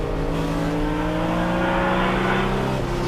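Vintage race cars, Porsche 935s among them, roar past at a historic racing reunion, with loud, continuous engine noise and rising and falling revs as they run neck and neck.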